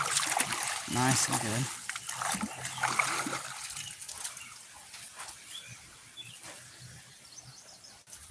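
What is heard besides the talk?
rinsing a fishing net off in water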